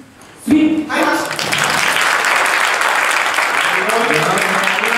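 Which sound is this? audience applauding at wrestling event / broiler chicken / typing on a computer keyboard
audience applauding at wrestling event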